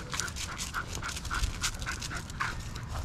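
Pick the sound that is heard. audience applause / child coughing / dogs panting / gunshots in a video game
dogs panting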